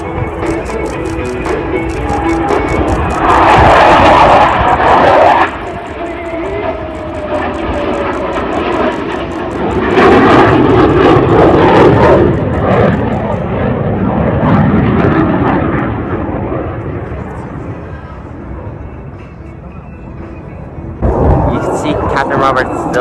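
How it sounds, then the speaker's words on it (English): CF-18 Hornet fighter jet flying a dirty inverted pass with tail hook and landing gear down at the Gatineau-Ottawa airshow, its engine roar rising and falling in loud surges as it passes, with an announcer talking over it. "Captain Roberts, the CF-18 Hornet, and the dirty inverted pass."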